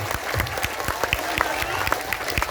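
An audience at a religious gathering in Taiwan claps steadily, with irregular hand claps of moderate loudness over a slightly noisy room and faint voices mixed in.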